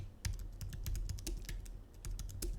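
Brisk live typing on a computer keyboard, a steady stream of close, crisp key clicks with irregular rhythm and no talking.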